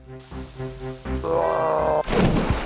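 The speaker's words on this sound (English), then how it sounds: "The goat lowers his head and runs straight for the troll, butting him right off the bridge and into the river below." Game sound effects from the VGA remake of King's Quest I as a goat charges and butts a troll off a bridge, with a rising tonal passage ending in a sudden crash-like thud.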